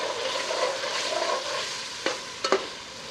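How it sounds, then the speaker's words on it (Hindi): Mutton tripe (ojri) frying with spices in oil, a steady close sizzle with a few scraping stirs of a spoon against the pan near the end. "थोड़ी देर के लिए और भून लेंगे।"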